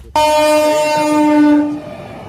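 A nearly empty train from Sealdah blares its horn loudly with a sustained, steady tone, then fades as the train rumbles past nearby.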